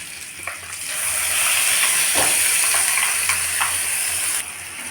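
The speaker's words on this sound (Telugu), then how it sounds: "మసాలా వేసుకున్నాం కదండి. ఇది వేగాలన్నమాట." Masala spices sizzle in a pan for egg curry, a steady loud hiss with faint scrapes of stirring running throughout.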